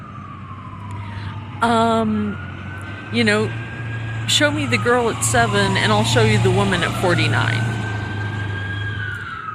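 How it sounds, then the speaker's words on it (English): An emergency vehicle siren wails as it passes, a rising and falling tone heard steadily in the background beneath someone talking close by. "There's a siren coming by"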